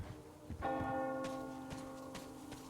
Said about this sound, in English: You hear that bell?